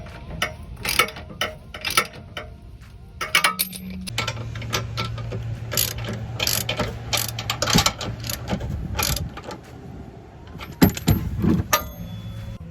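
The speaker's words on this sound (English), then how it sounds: "just so you have more room to swing the wrench back and forth" A ratchet wrench fitted with several extensions tightens tow hitch bolts under a Subaru Crosstrek, with repeated close clicking strokes, metallic clanks and a low hum in the background.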